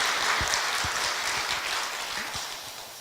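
A church congregation applauds after a sermon, a broad sustained clapping wash with some louder individual claps near the front, fading slightly toward the end; no speech.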